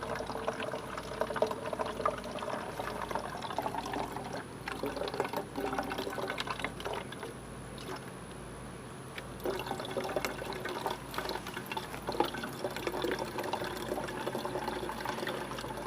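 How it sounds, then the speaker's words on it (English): Water trickles and splashes steadily from a Sawyer Mini water filter held without squeezing, a continuous close pouring sound that runs the whole time with no talking. "There's a lot more water coming out than if I was squeezing it out like the other Sawyer Minis."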